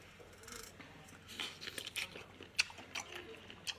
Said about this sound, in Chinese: 嘎嘣脆